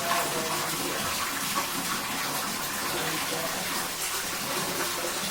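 A tap runs steadily into a bathtub during a child's bath, a loud continuous gush that fills the whole stretch with only faint voices underneath.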